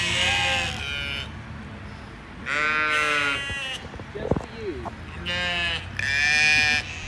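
Sheep bleating in a livestock pen on a plantation farm near Charleston, South Carolina, several loud close wavering bleats in overlapping bursts with short gaps, over steady outdoor background noise.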